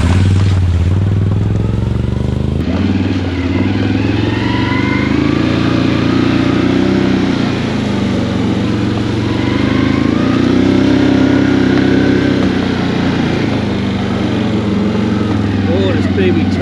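A 2023 Can-Am Outlander XT850 ATV engine drones steadily on a deep woods trail while engine braking in high gear downhill, a close, continuous rumble that swells and eases slightly throughout.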